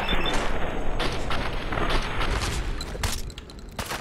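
Shotgun fire in the video game Fallout 4: a rapid barrage of loud, booming blasts with mechanical clatter between shots, close up and continuous.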